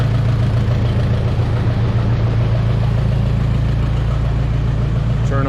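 A Minneapolis Moline 302 tractor engine runs at a steady idle, loud and close, a continuous low throbbing drone with no breaks or revs and no one talking.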